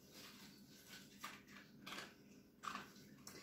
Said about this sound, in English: If you hear crunching, that's my dog eating his food.